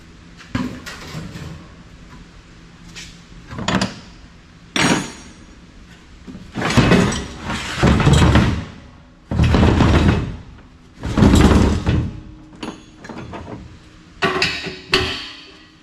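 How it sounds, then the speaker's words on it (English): A large, heavy piece of sheet metal is dragged and shifted aside during e-waste scrapping of a telecom fan base, giving repeated loud clangs, scrapes and thumps in irregular bursts with short quiet gaps. "Now we get this big old piece of sheet metal out of the way."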